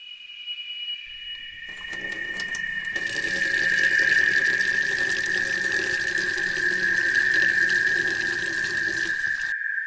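A bathroom tap runs steadily while a patient washes her hands in a hospital bathroom, a continuous close hiss of flowing water that swells after a couple of seconds and holds, with no one talking.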